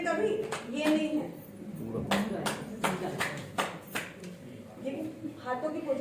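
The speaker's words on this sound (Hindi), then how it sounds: "हाथों की पोजीशन देखिए स्ट्रेट और फिर ताली" Hands clapping in sharp, evenly spaced claps as a seated exercise with the arms held straight, about eight claps in the middle of the clip, with a voice talking before and after them.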